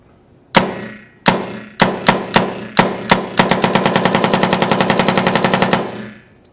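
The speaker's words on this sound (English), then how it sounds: "we got it fine-tuned, shooting really fast" Tippmann 98 paintball marker with a tuned trigger firing: a few spaced single shots, then a fast, steady burst of sharp, loud pops at close range, with no voices.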